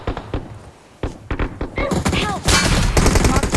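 Gunfire in the mobile battle royale game BGMI, loud bursts of rapid automatic shots and single cracks packed close together, a dense volley building toward the end with a player's voice briefly heard.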